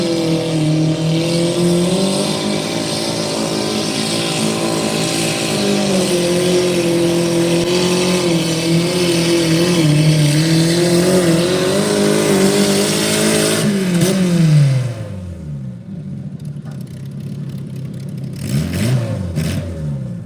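Garden tractor engines at a B-class garden tractor sled pull in Ohio, a loud sustained revving drone with wavering pitch that climbs, then cuts off abruptly near the end, followed by quieter idling and a brief final rev.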